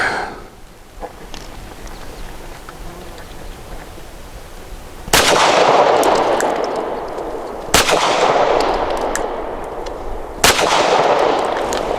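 Three sharp, loud shots from a Canik METE SFX pistol crack out at an outdoor range, spaced a few seconds apart, each followed by a ringing decay over a quiet hissing background.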